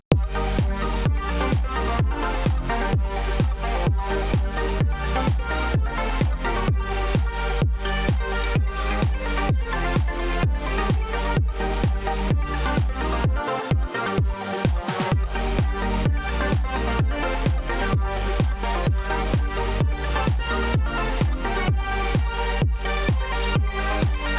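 Electronic synth beat made with the Serum plugin alone, with a steady pulsing rhythm and layered tones, a brief drop in the low end midway, playing alone without voices.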